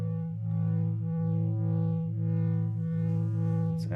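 A held chord from a Modal Argon8 synthesizer with distortion applied sounds as a steady, buzzing, harmonically rich drone with a faint rhythmic pulse, loud and alone for four seconds.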